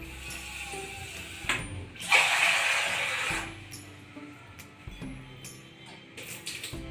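Water pours into a pot for heating on a stove: a brief rushing splash of about a second in a quiet room, with light handling clicks before and after.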